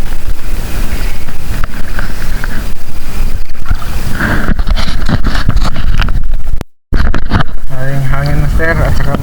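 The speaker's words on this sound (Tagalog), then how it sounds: "Hangin master at saka maalon." Loud wind buffeting the microphone at sea while fishing, with waves sloshing against a boat; a voice speaks briefly near the end.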